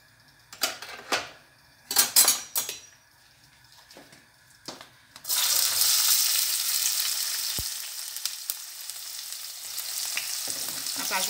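Ingredients hit hot oil in a pot partway through, bursting into a loud, steady sizzling fry that carries on to the end, after a few separate knocks and clatters of kitchen handling.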